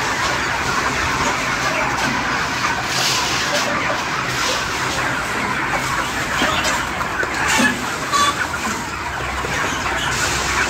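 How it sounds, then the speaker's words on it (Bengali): Broiler chickens clucking in the morning while being fed, a busy chorus of close clucks over a steady background hum, with faint talk in places. "তো রেডি মুরগির খাবার দেওয়া হচ্ছে সকাল সকাল।"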